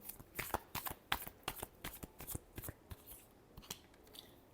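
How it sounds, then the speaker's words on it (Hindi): A deck of tarot cards is riffled and shuffled in quick, crisp bursts of flicking and snapping, close and quiet, with short gaps between passes and no voices. "last shuffle"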